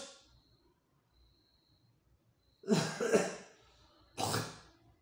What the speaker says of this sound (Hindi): मुझे थोड़ी खांसी भी आ गई थी